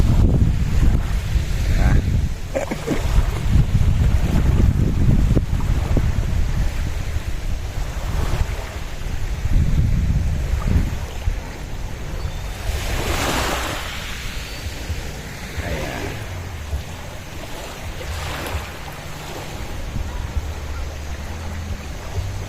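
Sea waves wash and surge against a shore in steady wind, with broad surf noise and occasional swishes as someone wades and splashes in clear seawater near an island.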